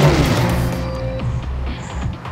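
The red car in the racing game Trackmania 2 Canyon drives with a loud, steady engine drone and a rising whine that eases off as it goes, with no talk over it.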